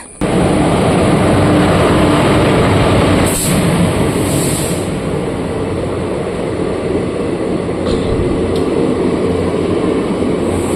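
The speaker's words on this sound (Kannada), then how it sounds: "ಟ್ರೈನ್ ಬಂತು" A loud, continuous rumbling roar of a train arriving close by, heavy rolling noise filling the whole stretch with brief higher squeals partway through.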